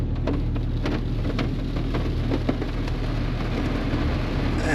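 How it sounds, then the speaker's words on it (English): Heavy rain pours down outside a vehicle, a dense, steady hiss of drops drumming on the surface with occasional louder splats and a low rumble underneath, no voices present. "it is raining cats and dogs out there"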